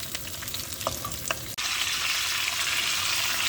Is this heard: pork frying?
yes